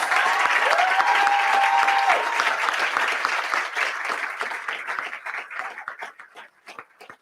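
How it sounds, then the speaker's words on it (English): An audience at a youth pitch competition applauds for the speaker's mother, loud continuous clapping with a few cheers that gradually thins into scattered individual claps as it dies away. "let us give my mother a huge round of applause"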